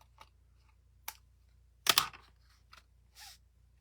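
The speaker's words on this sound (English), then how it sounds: "and then I'm just going to snip these off" Scissors snip paper card pieces at close range for a handmade pocket card: a few sparse, quiet clicks and one sharper double snip in the middle, with no talking.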